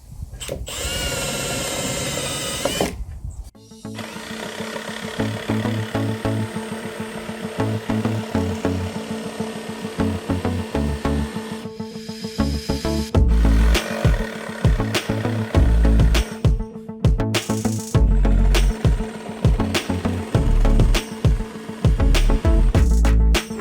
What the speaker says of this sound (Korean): 구멍을 뚫은 다음에 뒤집어서 뚫어줄게요